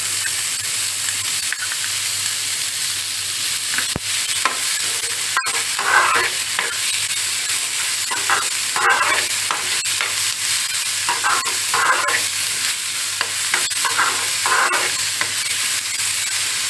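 Onion and capsicum sautéing on medium flame for masala appe: continuous close frying sizzle and hiss, with repeated scraping stirs of a spoon in the pan.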